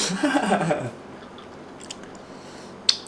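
Chewing honeycomb, wet sticky bites and crunches up close for under a second, then fading into faint mouth sounds and a small click.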